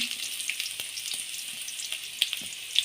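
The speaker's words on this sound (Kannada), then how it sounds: "ಹಾಕಿ ಚೆನ್ನಾಗಿ ಫ್ರೈ ಮಾಡ್ಕೋಬೇಕು" Chopped onions and spring onions fry in about three tablespoons of oil for a paneer chilli masala, a steady soft sizzle at moderate level with scattered pops and small crackles, no voices.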